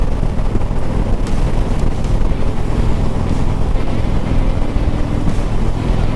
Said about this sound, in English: It's nice to ride the motorbike